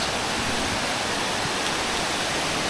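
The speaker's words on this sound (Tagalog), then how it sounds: "Ito na yung falls." A waterfall near a Mangyan village in Talipanan, Puerto Galera: a constant, close, full-bodied roar of rushing water, even and unbroken throughout.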